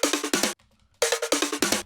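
A punchy electronic drum fill from a sample pack fires rapid, bright, tightly clipped hits in quick bursts, broken by a short gap, loud and dry with no talk.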